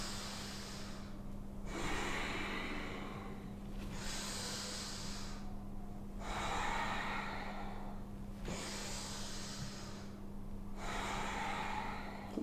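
Rhythmic forceful exhales through the nose during Kundalini yoga breathwork, five long rushing breaths about two seconds apart with brief pauses between, close and loud over a steady low electrical hum.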